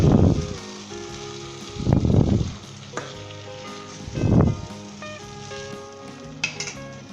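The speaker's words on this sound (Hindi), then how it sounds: "हल्के हाथ से इसे मिक्स कर लें।" A spoon gently stirs chicken qorma, a Lahori wedding-style dish, in a pot, giving soft scraping swishes in three slow strokes over a low, steady sizzle, with a few light clinks near the end.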